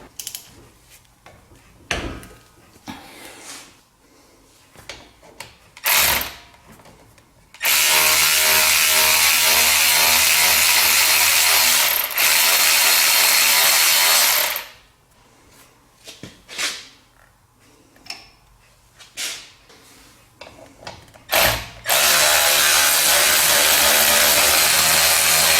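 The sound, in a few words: 14 mm socket loosening brake caliper slide pins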